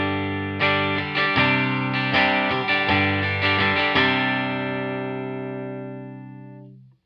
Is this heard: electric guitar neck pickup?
yes